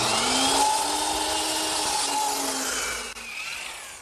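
A miter saw slices through wood at about a 33-degree angle for a chair table, giving a loud, steady, whining cut that runs for about four seconds with a slight dip near the end.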